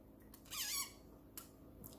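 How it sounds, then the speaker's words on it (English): A short, high-pitched squeak rings out, followed by a few fainter rubbing squeaks in an otherwise quiet room. "Sorry for the squeaky mirror."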